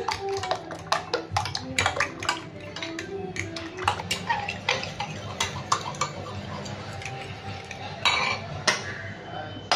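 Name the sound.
mixing eggs and milk in a bowl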